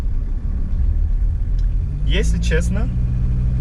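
Mercedes-Benz W123 sedan engine pulling hard at full throttle, a loud steady low rumble from inside the cabin, with someone speaking briefly over it.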